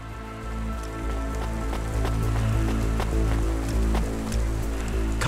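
Steady rain pours down in a rainy city street in the video game Cloudpunk, a dense continuous hiss with scattered close drips and patters over a low ambient hum, no voices.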